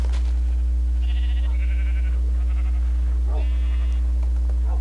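Sheep in the Minecraft video game bleat in a few short, nasal calls spread across a steady low electrical hum, with no voices over them.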